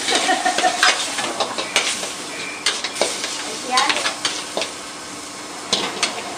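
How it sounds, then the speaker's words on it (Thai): Pad thai is stir-fried in a pan over a steady sizzle and hiss. A utensil scrapes and clinks against the pan in quick repeated strokes, close and loud. "เดี๋ยวเราก็ผัดให้มันแห้งนะครับ ตอนนี้มันยังน้ำเยิ้มอยู่คร ับรอสักครู่"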